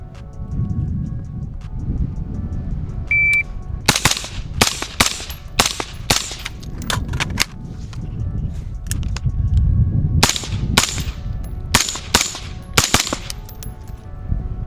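A rifle with a foregrip fires its full magazine in a steady string of sharp, loud shots, coming in bursts separated by short pauses, with faint background noise between them.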